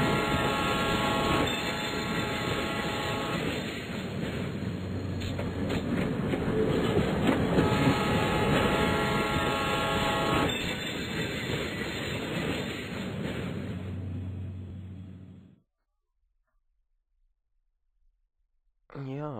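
Trains in the railway management game Train Station rumble and clatter steadily with metallic squeal and a brief horn, under German commentary, before cutting to near silence.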